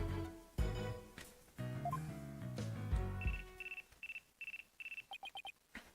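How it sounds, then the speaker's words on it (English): A phone rings in the courtroom-drama game Ace Attorney: Dual Destinies, a string of short, bright electronic ring bursts repeating in a quick pattern after a stretch of game music. "Looks like I have a phone call."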